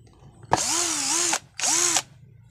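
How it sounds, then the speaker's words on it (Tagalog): Cordless drill boring into wood, two loud close bursts of high-pitched motor whine with a brief pause between them. "Try naman natin sa kahoy."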